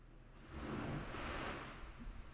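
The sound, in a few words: ocean waves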